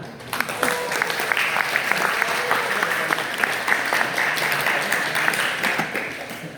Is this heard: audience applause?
yes